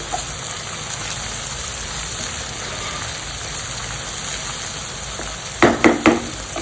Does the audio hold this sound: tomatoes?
yes